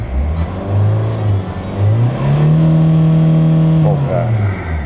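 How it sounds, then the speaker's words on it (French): A Renault Laguna 2 1.9 dCi 130 hp diesel with DPF and a neutralised EGR valve idles close by, then revs up briefly and settles back, a loud steady hum under someone talking. "je pense que vous entendez le moteur, vous voyez comme tour"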